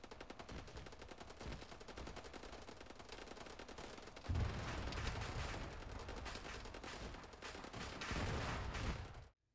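Sustained machine-gun fire in ARMA 3 with a Mass Effect mod, rapid continuous bursts that intensify midway into a denser, heavier volley before cutting off abruptly.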